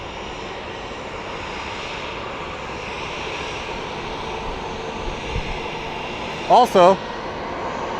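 A Frontier Airlines jet takes off at Phoenix Sky Harbor airport, its engines a steady broad roar at a distance that fills the whole clip, with a brief spoken word near the end.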